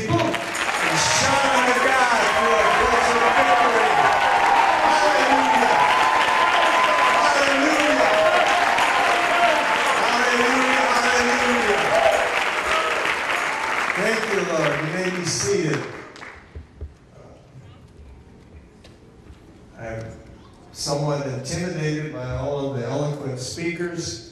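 A rally audience in Cooper City, Florida applauds in a long, loud sustained burst, with voices and cheering mixed in; the clapping drops away abruptly near the end, leaving a brief lull before voices return.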